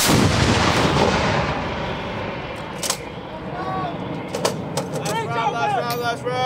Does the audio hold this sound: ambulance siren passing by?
no